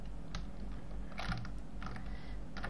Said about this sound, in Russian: Если сильно будет шуметь клавиатура, то извините